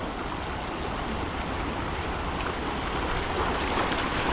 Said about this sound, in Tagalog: Lakas po ng agos.